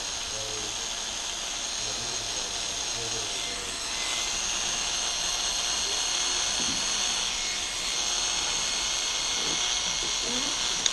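An electric hair clipper set to a number 3-0 guard hums steadily and close up while cutting hair, a continuous buzz with slight changes in pitch as it moves through the hair.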